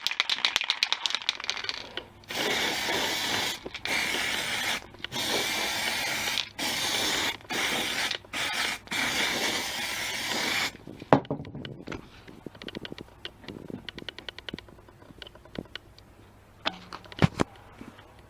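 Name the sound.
spray painting wind turbine rotor disc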